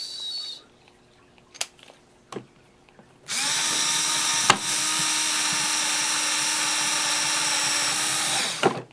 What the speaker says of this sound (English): let me drill the hole now